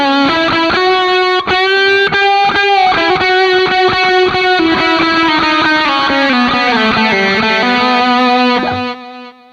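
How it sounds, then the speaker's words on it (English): Electric guitar played through a clean boost pedal in front of the amp, giving a slightly gritty, mid-gain tone; a sustained run of strummed and picked notes rings loud and continuous before cutting off at the end. "that's kind of that clean boost, and it'll just kind of add like the nice little bit of grit in front of the amp"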